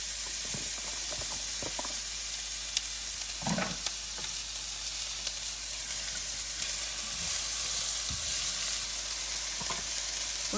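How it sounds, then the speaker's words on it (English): Onions sautéing with spices in a little olive oil, a steady soft sizzle close by, broken by faint stirring clinks and scrapes, with no talk. "We're going to saute the onions with all the spices."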